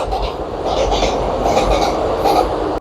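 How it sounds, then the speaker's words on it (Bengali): A train runs past beside marigold and vegetable fields at Khirai, a close, continuous rumble with a rhythmic wheel clatter that holds steady throughout. "আর পাশেই ট্রেন ছুটে চলেছে।"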